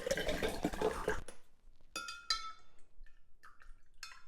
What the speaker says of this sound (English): Now fill up the rest of your jar with purified water.